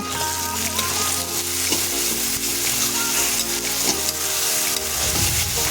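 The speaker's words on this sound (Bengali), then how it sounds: "আদা বাটাটা দিয়েও কিন্তু একটু নেড়ে চেড়ে কষে নিতে হবে" Ginger and garlic paste stir-fries in oil for mutton curry, a loud continuous sizzle with a low steady hum and faint scraping stirs beneath.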